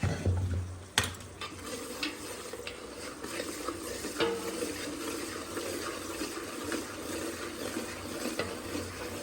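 Hot ghee bubbling and foaming as gram flour goes in for Mysore pak, a steady low sizzle with stirring scrapes and a sharp clatter near the start.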